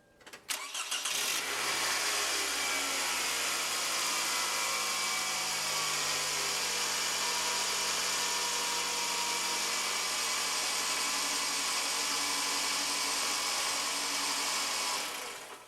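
A Toyota Camry engine cranks and starts after an oil change, then runs at a steady loud idle for several seconds before shutting off abruptly.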